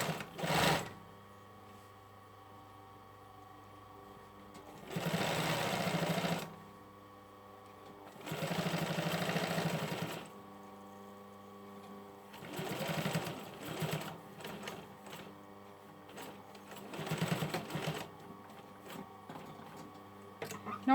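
Domestic sewing machine with a size 12 needle stitching the upper edge of a hoodie patch pocket, running in about five separate bursts of close, steady whirring with quiet pauses between them.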